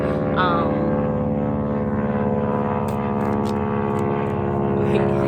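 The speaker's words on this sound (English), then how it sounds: "we have a plane going over us right now" An airplane passes overhead, producing a loud, steady, droning engine hum with sustained tonal layers throughout, and a voice speaks briefly over it.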